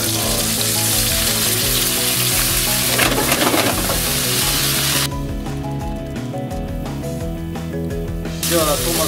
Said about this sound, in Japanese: 白ワインを加えます。